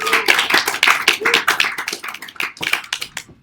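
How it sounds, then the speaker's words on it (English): A small comedy club audience claps for an act in sparse, uneven bursts, close and distinct individual hand claps rather than a full ovation, with a few voices mixed in. "Get their round of applause going."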